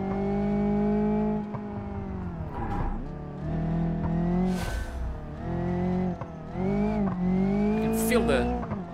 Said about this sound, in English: I can feel the tires of the car screeching on the road.